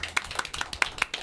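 A few scattered hand claps from a small audience of parents and children at a French-language event, sparse and irregular, several distinct claps over about a second rather than a full applause.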